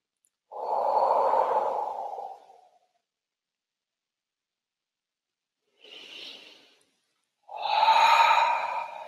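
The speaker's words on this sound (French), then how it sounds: "faire 3 grandes respirations de nettoyage" Three deep cleansing breaths taken during a guided meditation, each a long, close, airy exhale. The first and last are loud and full, and the middle one is shorter and softer, with silent pauses between them.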